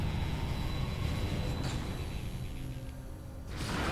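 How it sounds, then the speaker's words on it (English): A transit train locomotive from the video game Metroid Prime rolls along with a steady low mechanical rumble and rushing hum that holds constant, brightening into a louder whoosh near the end. "the transit locomotive"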